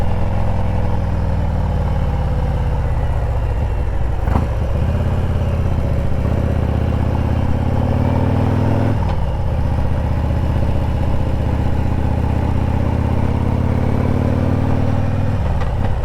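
A Harley-Davidson motorcycle rides through an industrial area, its engine a loud, close, continuous rumble with rising pitch sweeps as it accelerates and brief dips at two gear shifts.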